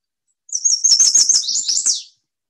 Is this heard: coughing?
no